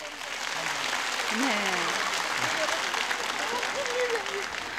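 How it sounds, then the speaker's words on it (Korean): Studio audience applause during a 1983 KBS broadcast reuniting separated families: a continuous wash of clapping throughout, with voices talking over it. "여러분 다시 한번 축하의 박수를 부탁드립니다."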